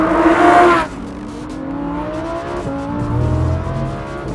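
A Lamborghini Huracan STO pushed hard on the Buddh International Circuit, a loud, close engine wail that drops sharply as the driver lifts, then settles into a lower, steady drone with rising and falling pitch.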